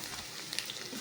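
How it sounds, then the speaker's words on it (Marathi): Garlic fries in a pan with a brief burst of steady, close sizzling hiss and small crackles, no voice over it. "आता लसूण पण भाजलाय आपला"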